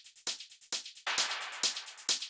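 A dry acid techno percussion group without bus processing plays a repeating pattern of sharp hits with rapid hi-hat ticks between, tight and fairly quiet.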